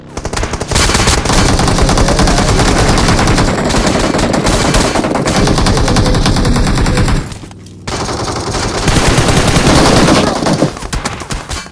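Sustained automatic gunfire in a PUBG Mobile squad fight, loud and dense bursts rattling almost continuously with a short pause before resuming, no voices over it.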